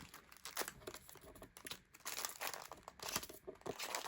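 Plastic wrapper crinkling and rustling as it is folded around a Rice Krispies treat, with close, continuous bursts of crackle and soft crunches over a few seconds.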